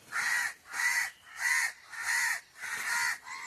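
Crows cawing in a steady series of six harsh, loud calls, evenly spaced and close by, with no talking.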